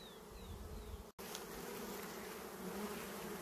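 Bees buzz close around a person standing near hives, several insects flying past with rising and falling drones over a steady hum, briefly cut by a short gap before the buzzing resumes.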